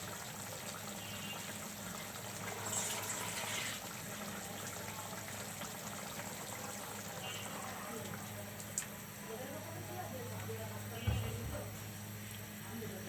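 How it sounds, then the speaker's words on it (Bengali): A little water is poured into a pan of bhangna fish curry cooking with tomatoes and coriander, giving a soft brief splash and trickle over a steady kitchen background while someone talks. "এখন এখানে আমি সামান্য পরিমাণ একটু পানি দিয়ে দিব।"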